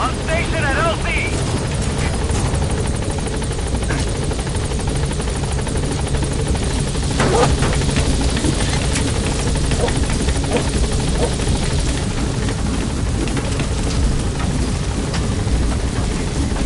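The Pequod helicopter from Metal Gear Solid 5 arrives at a landing zone, its rotor and engine a steady, loud low thrum with a whine building, while game voices talk over it.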